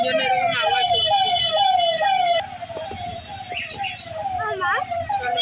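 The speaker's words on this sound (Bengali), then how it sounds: "অ্যাম্বুলেন্স আসছে, ওই জন্য এরকম আওয়াজ হচ্ছে।" An ambulance siren wails on the road, rising and falling in a repeating pattern loud and close for the first half before dropping away, while traffic rumbles and people talk.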